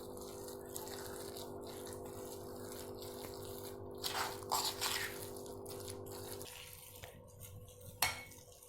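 Coriander vadi batter being stirred in a bowl with ginger, chilli and garlic paste, soft wet scraping and clinks of a spoon against the bowl, faint and close over a low steady hum.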